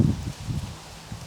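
Outdoor wind gusts rumble low and uneven against the microphone in short bursts, moderately loud, with no speech.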